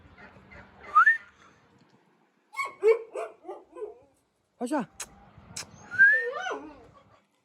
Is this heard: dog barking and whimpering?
yes